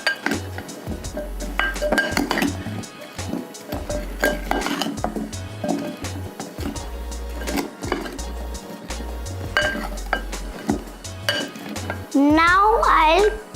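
Potato wedges tossed with oil and seasoning in a bowl give close clinks and scraping rattles against the dish, with soft background music underneath.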